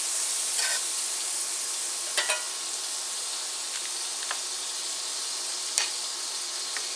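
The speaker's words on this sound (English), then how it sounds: "I'm going to get another pat or another tablespoon of margarine. Let it melt in here." A pat of margarine melts and sizzles in a frying pan on a cooktop turned down to 275, a steady close hiss broken by a few sharp crackles and pops.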